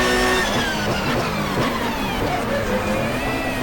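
A touring car engine in the GTR2 racing game screams at high revs as it accelerates in sixth gear down a straight toward a chicane at Donington, a loud steady drone with shifting engine tones and no pauses.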